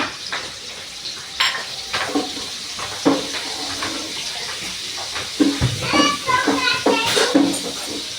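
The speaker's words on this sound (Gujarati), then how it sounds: "થોડી વાર સાતરવા દેવાની, પછી એમાં ડુંગળી નાખી દેવાની" Onion and green chili fry in a pan, with a steady hiss of sizzling oil broken by scraping clinks of a stirring spoon, while a voice talks over the cooking.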